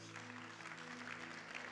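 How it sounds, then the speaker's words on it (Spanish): Congregation applause for the Lord during a Spanish-language church sermon, faint and steady, a brief continuous wash of clapping over a low hum. "un fuerte aplauso al Señor"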